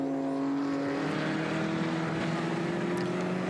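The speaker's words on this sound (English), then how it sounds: "Here's that ex-Ken Miles Streamliner, the MG EX 182, just running behind the Mark Ashworth TVR Grand Tourer." The MG EX 182 streamliner and a TVR Grand Tourer race at the Le Mans Classic series at Dijon, a loud, continuous engine drone with a slowly shifting pitch.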